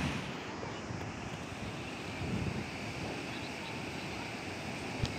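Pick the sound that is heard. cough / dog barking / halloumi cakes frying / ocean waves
ocean waves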